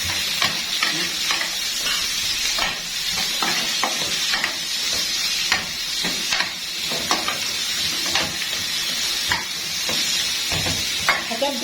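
Seasoned potatoes and onion with black pepper sizzle steadily in a pan, with repeated close scraping stirs of a spoon throughout and no talk.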